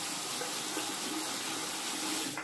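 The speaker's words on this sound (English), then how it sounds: "I'll go ahead and wet the razor here" Tap water runs in a steady, close hiss into a sink for wetting a Rockwell 2C safety razor, continuous and alone, then tapering off right at the end.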